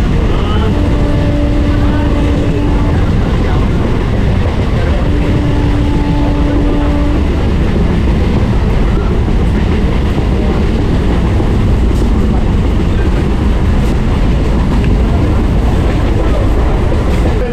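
The Sealdah–Gede train runs with a loud, steady rumble and rattle that goes on throughout, with two long horn-like tones sounding early on.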